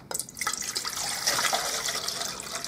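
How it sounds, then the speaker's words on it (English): Water pours steadily from a jug into a pot, a continuous splashing, gurgling stream that starts abruptly and runs alone for a few seconds at close range. "So I'm going to put in roughly a litre of water"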